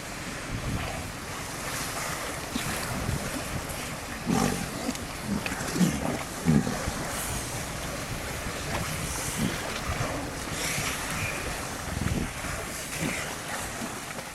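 Walruses in the Arctic sea call near a small black boat bobbing on the water: a few low, rough roars and grunts rise from behind steady surf wash and gusting wind noise.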